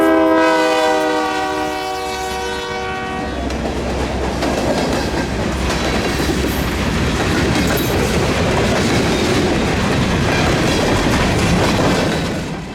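A shortline freight train in coastal Carolina passes a grade crossing: a loud horn blast with ringing tones opens, then gives way to a close, continuous rumble and clatter of rail cars rolling by for the rest of the span.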